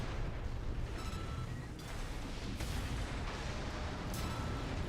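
A detonation in the mech combat video game Armored Core, a deep rumbling blast that swells and rolls on with layered booms and crackling debris, loud and continuous for several seconds.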